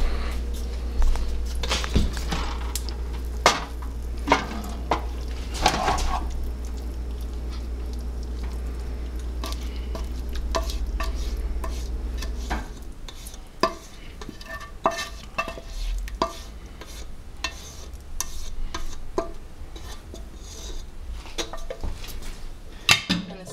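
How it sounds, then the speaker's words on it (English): Spaghetti mix for chicken tetrazzini being spooned into a baking dish, heard as repeated scraping, clinking and soft wet stirring sounds of utensil against cookware, close and steady, with a low hum in the first half and no talk. "so now I'm gonna go ahead and just put the spaghetti mix into the baking dish"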